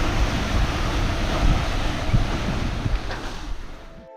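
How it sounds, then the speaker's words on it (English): Waves rush and wind roars steadily against a sailboat on a beam reach in an east wind at night, broadband surf wash filling the clip with swelling gusts, no voices. "now we've got east winds and we're flying along"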